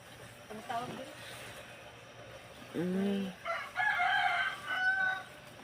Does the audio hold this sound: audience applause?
no